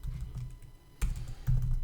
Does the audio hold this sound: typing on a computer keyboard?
yes